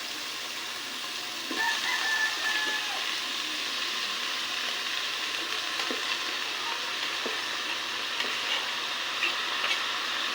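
Sliced bottle gourd (upo) goes into a hot pan and sizzles and fries steadily, with a few faint clinks of a utensil and a distant rooster crowing in the background.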